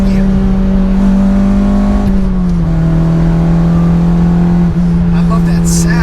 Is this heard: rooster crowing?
no